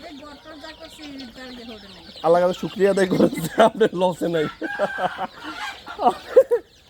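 Native chickens on a woman's farm raised in a natural setting cluck and call in short, irregular bursts, mostly under a man's close, loud conversation.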